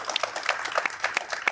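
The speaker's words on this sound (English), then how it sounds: "a nice round of applause?" A small audience gives Charlie Kirk a brief round of applause, a sparse patter of separate claps heard at moderate distance.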